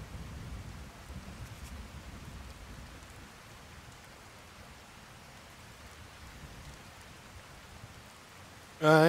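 Steady rain in the video game Skyrim patters softly and evenly, with a faint low rumble beneath it, ending in a brief, sharper sound.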